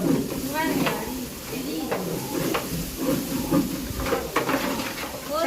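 Tomatoes and green chilies frying in a pan in a home kitchen, a continuous sizzling hiss with crackling bursts, heard close while people talk over it.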